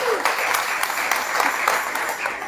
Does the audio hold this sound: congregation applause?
yes